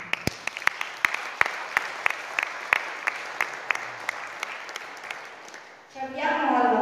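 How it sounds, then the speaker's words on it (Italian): Audience applause at a Christmas show in Santa Margherita di Belice, a steady wash of clapping with sharp individual claps standing out, ending abruptly as music begins at the close. "e fatevi un applauso voi."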